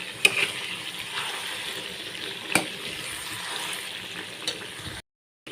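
A paste of ginger, garlic and green chili sizzles gently in a pan as it is stirred. Soft frying hiss runs throughout, broken by a few sharp utensil clicks against the pan.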